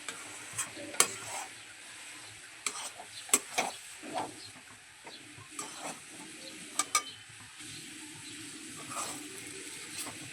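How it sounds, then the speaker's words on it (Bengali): Semolina stirred in a pan as it cooks into a dough for semolina nuggets: soft scraping and shuffling strokes with occasional sharper clicks of the spoon against the pan, close and fairly quiet. "সুজিটা এইভাবে নাড়তে নাড়তে একটা মণ্ডর আকারে তৈরি করে নেব।"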